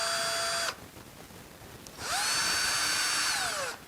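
A power drill whines as it bores into wood, running in two loud bursts with a short quiet pause between them, the pitch sagging as the bit loads up.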